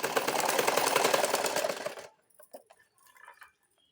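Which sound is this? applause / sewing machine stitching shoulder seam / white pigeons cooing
sewing machine stitching shoulder seam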